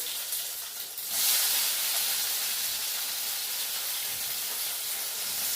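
Chopped tomatoes sautéing in a pan for a Kerala-style fish curry, a bright steady hiss that swells suddenly after a second and then holds evenly, close and without talk.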